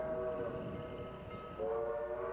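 A train horn blares steadily in sustained harmonic tones, with a brief break and then resuming, over low rumbling rail noise.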